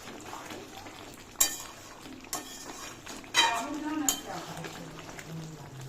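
Meat braising down in its own released juices in a pot for a Rakhi Sunday lunch, with scattered clinks and scrapes of a spoon stirring against the pot over a low bubbling sizzle.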